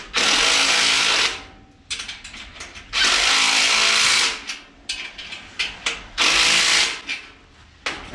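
Three loud bursts of a whirring power tool driving bolts on an RV cargo rack, each about a second long, with softer ratcheting clicks and knocks in the gaps between.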